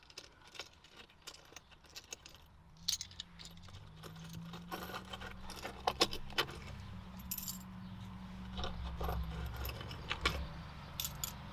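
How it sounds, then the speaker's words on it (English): Loose coins jangling and clinking as they are scooped out of the center console of a 2013 Jeep JKU, a run of close, irregular metallic rattles over a faint low hum. "So remove all of my loose change."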